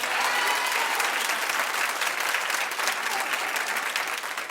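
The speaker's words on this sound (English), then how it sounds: "clap if you'd like to see this happen" Steady, dense applause from a large television talk show studio audience, loud and sustained throughout with no pauses.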